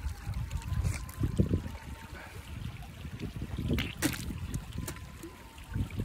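Snowmelt from the mountains in Georgia runs down as a thin stream of water, giving a faint, steady trickle and dribble close by with small splashes.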